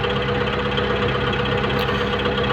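A tractor pulling a plough drones steadily at close range, its engine loud and constant with a rough, knocking undertone throughout.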